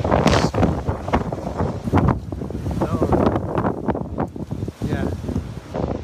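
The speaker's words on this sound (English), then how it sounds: "that's quite windy, I'd say" Strong, gusting wind roars across a microphone outdoors among shaking trees, a steady broadband rush with swelling gusts and occasional rustle throughout.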